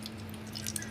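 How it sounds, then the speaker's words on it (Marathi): Cooking oil pours into a pot for a spicy chole masala, a brief soft liquid trickle and patter over a low steady hum. "आता आपण तेल टाकून घेऊ पातेल्यामध्ये."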